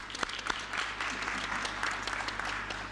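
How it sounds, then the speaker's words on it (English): Audience applause at a pharmacy school oath-taking ceremony: dense, steady clapping from a crowd with a few sharper individual claps standing out, moderately loud and continuous throughout. "Round of applause, please."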